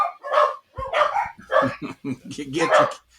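Several dogs bark and yip in a quick series of close, loud bursts, about six barks over three seconds.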